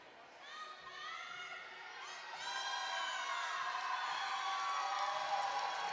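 Crowd at a 2024 A&T Presbyterian vs Long Island cheerleading competition, with rising whoops and shouts that swell into sustained cheering, distant but building louder as a commentator's voice runs underneath.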